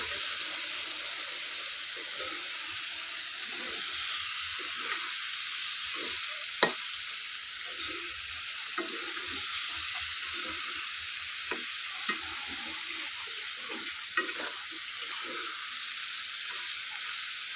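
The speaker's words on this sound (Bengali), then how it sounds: "দিয়ে এখন ভালো করে একটু নাড়াচাড়া কষাতে হবে" Goat tripe frying with ground spices, a continuous hiss of sizzling oil under repeated scraping and stirring strokes with occasional sharp clicks of the spoon, close and steady, no talking.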